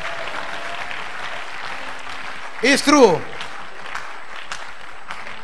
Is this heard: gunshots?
no